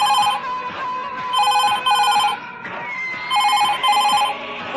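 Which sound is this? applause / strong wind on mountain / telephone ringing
telephone ringing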